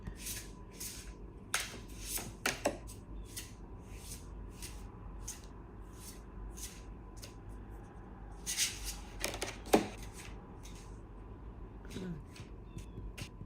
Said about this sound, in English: she made a point to say that you won't see shuffling, and then she was shuffling